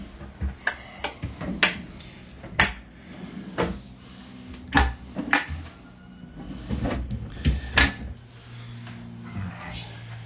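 Drawers opening and closing in a motorhome, a series of sharp wooden knocks, slides and thuds spread unevenly through the stretch, close and fairly loud.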